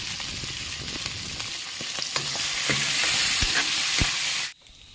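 Meat sizzles and fries in a pan with red chili powder and Kashmiri red chili, a loud, hissy crackle with occasional stirring knocks that swells and then cuts off abruptly near the end.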